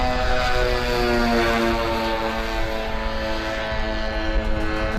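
A Hezbollah attack drone, fitted to a launcher and fired, flies with a loud, steady propeller drone that holds an unbroken, high buzzing whine throughout, with no voices.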